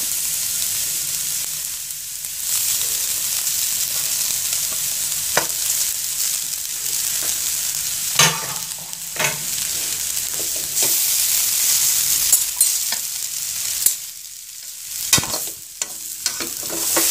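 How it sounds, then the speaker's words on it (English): Steady scraping and sizzling as idiyappam dough is stirred in a hot pan over low heat, with a continuous hiss and occasional sharper scrapes of the spoon, no talking. "So nicely stir it."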